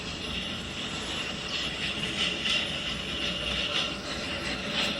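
In the horror game Choo Choo Charles, the monster train comes walking, a continuous rumbling roar that swells slightly and stays steady in the background, with no talk.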